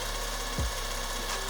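A cordless drill machine spins a homemade 220V generator, giving a steady, close whirring drone with a layered motor hum and a brief dip in pitch partway through.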